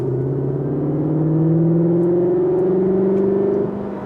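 A Cupra Formentor plug-in hybrid's 1.5 petrol engine with a 6-speed gearbox hums steadily and its pitch rises slowly under light acceleration, then settles back near the end.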